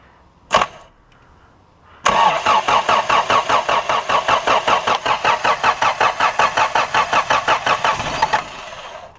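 A click, then a starter motor cranking a Toyota Hilux 4x4 truck engine in a steady rapid rhythm for several seconds before it cuts off without catching.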